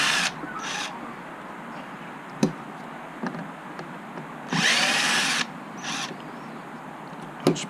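A power screwdriver backs out the two rear screws of an LCD display top box, with two short whirring bursts, one longer run in the middle and scattered sharp clicks of handling.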